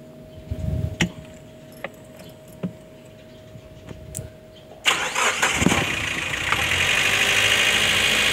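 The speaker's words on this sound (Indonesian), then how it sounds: "ternyata setelah mesin dihidupkan" A Suzuki car with a persistent check-engine fault (code P0340) being started: several clicks and short cranking attempts, then the engine catches and settles into a steady, fairly loud idle.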